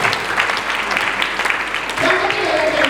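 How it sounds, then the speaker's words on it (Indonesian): A congregation at a Christmas service in Sorong claps together in steady, dense applause, with a voice speaking over it near the end. "Yang percaya boleh tepuk tangan yang terbaik bagi Yesus"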